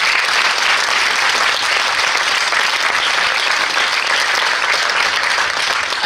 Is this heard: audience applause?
yes